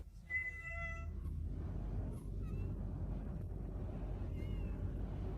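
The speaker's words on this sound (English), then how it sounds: "a very vocal cat here" A vocal cat in Thailand lets out a short, sharp meow near the start and then fainter mewing calls later, all over a steady low background rumble.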